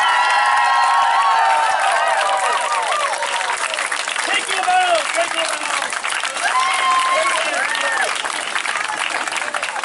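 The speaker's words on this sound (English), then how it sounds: "And you give them thunderous applause" An outdoor crowd at a Renaissance fair Shakespeare performance applauds and cheers loudly, with whoops and shouts rising over sustained clapping while a performer speaks briefly.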